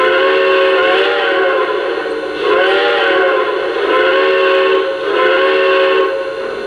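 A loud steam locomotive whistle from a Lionel Reading T1 model sounds in several long, wavering blasts, with short dips between them.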